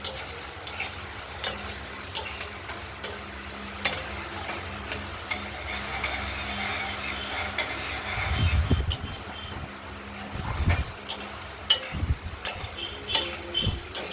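Ground spice paste with red chilli and turmeric frying in oil for a spicy paneer and potato curry, a continuous sizzle broken by repeated scraping and clinking stirs against the pot.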